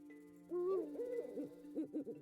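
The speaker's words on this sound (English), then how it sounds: "The hoot of an owl," An owl hoots in the Panacea: Rebirth game, a series of wavering, breathy hoots in short phrases, fairly close and clear over a quiet ambient drone.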